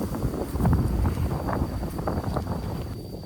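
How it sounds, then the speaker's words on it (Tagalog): Strong wind buffeting the microphone on a mountain hike up Mt. Balinsayaw, a loud, continuous low rumble with gusty surges and faint rustling. "Sobrang hangin."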